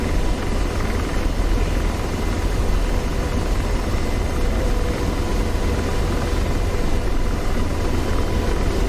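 An AH-64D Apache helicopter lifts off in the DCS World combat simulator on a Syria map, its steady broadband rotor and turbine roar filling the whole stretch loudly and evenly, with no voices over it.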